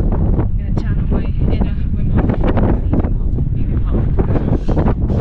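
Strong wind in a desert wind storm, a loud, constant roar buffeting the microphone with rough gusts throughout.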